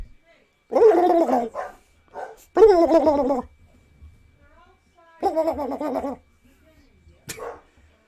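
A dog barks at a turkey outside in several loud, drawn-out, yowling bursts separated by quiet gaps, ending with a short final yelp.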